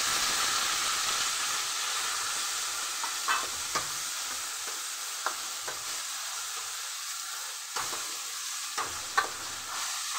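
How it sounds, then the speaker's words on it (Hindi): Onion hits sizzling fried spices for aloo chhole, giving a steady, close broadband frying hiss throughout with occasional sharp clicks and taps of a spoon stirring in the pan. "मसाले भून गया, अब इसमें हम डालेंगे प्याज।"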